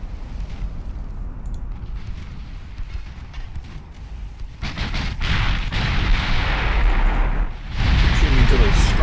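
Naval guns firing in the warship game Ultimate Admiral Dreadnoughts, heavy booming blasts and rumbling that swell louder toward the end, with a voice talking over the gunfire.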